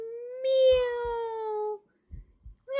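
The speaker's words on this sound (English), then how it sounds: "meow." A game cat gives a long, clear, drawn-out meow that rises slightly and fades, then a short second meow begins at the end, with quiet thumps in between, in the horror mystery Paranormasight.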